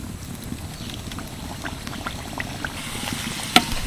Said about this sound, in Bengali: এবার আমি পরোটাগুলো ভেজে নেব